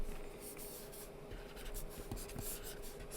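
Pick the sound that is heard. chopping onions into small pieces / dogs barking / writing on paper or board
writing on paper or board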